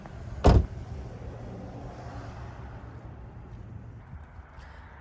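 A Gen 3 Mustang GT car door opens with one loud, close clunk of the latch near the start, followed by a low, steady background hum and a faint click at the end.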